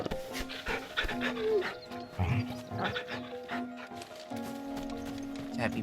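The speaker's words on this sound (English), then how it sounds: "Let's pet the dog." A dog is petted in the video game Final Fantasy XVI. Soft panting and small happy canine sounds play close over a steady bed of game music and ambience.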